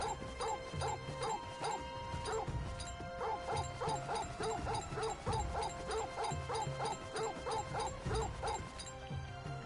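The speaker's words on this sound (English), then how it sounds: "Whenever you switch to the dog menu using the D-pad, he barks." A dog bark effect from the video game Final Fantasy XVI, heard as a run of short, repeated yips and barks in a steady rhythm over busy game music, loud and close, with no talking.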